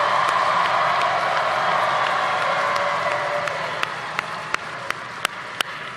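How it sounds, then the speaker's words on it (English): A large crowd at a Kamala Harris rally in Houston, Texas applauds and cheers in a broad sustained roar that slowly fades, with a few sharp close claps standing out near the end. "Can we applaud our leaders who are voting for the first time?"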